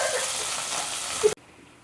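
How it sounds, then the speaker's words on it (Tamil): Onion dropped into hot oil with fenugreek seeds, a steady broadband sizzle of frying lasting over a second, a brief clatter near the end, then a sudden drop to quiet room tone. "வெந்தயம் பொரிஞ்சு வரும்போது வெங்காயம் சேர்த்துக்கலாம்."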